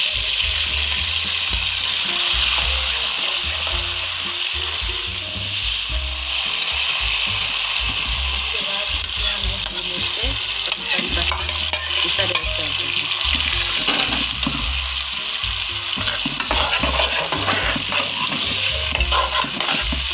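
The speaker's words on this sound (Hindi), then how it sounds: "हमारा लहसुन फ्राई हो चुका है। इसमें अब हम ये जीरा ऐड कर देंगे।" Garlic, cumin and curry leaves sizzle and fry in a pan for a dhaba-style turai sabzi, with steady loud crackling and repeated scraping stir strokes running throughout, no voices.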